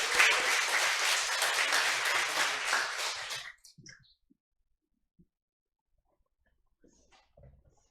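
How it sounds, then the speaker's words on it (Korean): A church congregation at a Thanksgiving service claps to welcome a speaker, dense and fairly close for about three and a half seconds, then cuts off into near silence with faint stray sounds. "박수로 환영합니다."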